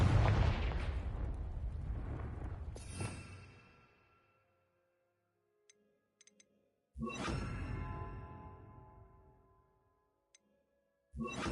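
In Hogwarts Legacy, the Confringo spell sets off loud booming explosions, two of them with long rumbling decays and a few faint ticks in the quiet between.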